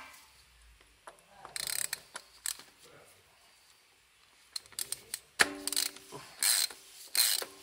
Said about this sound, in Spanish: ahora lo apretamos con la llave de antes